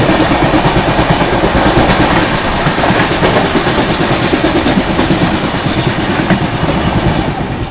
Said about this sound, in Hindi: सामने से आ रही है गोरखपुर LTT सुपरफास्ट।